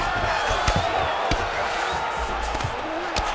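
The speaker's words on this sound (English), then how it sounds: "the crowd pops in appreciation as the fighters work their way back to the field" An arena crowd in the UFC 5 video game cheers and roars in a loud, continuous wash, broken by sharp thuds of impact during a fight.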